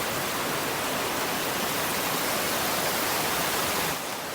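Steady, dense rushing of a small waterfall flowing into pools, loud and continuous, with no talking.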